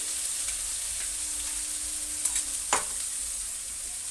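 Shrimp and spices fry in oil in a wok for a cauliflower-shrimp mash, a steady close sizzle with brief stirring scrapes and a couple of louder clatters; no one talks.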